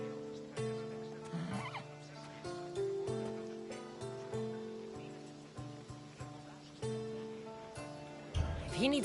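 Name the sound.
horse neighing in video game Assassin's Creed Odyssey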